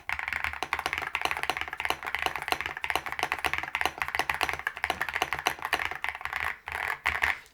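Rapid typing on a Yunzii C98 mechanical keyboard set straight on the desk without a pad, close clacking keystrokes in a steady stream with a short pause near the end.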